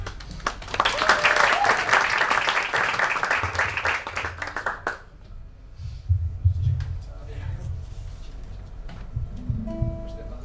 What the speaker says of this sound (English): And here's let's have a round of applause for our fantastic original presenter, Mia.